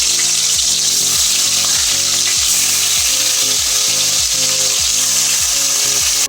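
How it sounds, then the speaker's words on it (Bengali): Loud, constant sizzling of pairatoli fish frying in hot oil, a steady crackling hiss with a repeating rhythmic pattern underneath it. "মাছগুলো আমি ভেজে নিচ্ছি।"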